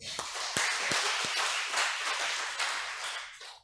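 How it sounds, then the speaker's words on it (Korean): A church congregation at a Sunday worship service breaks into brief applause, a fairly faint, dense wash of claps with a few sharper hand strikes standing out near the start. "박수"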